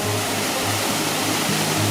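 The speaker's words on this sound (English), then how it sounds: "Waterfall number 4." A waterfall in Nova Scotia roars with a dense, continuous rush of falling water, close and loud, steady throughout, with no voices.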